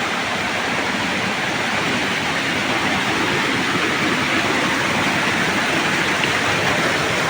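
Water pours down a small, nameless forest waterfall in the rainy season, making a constant close rush that stays loud and unbroken throughout.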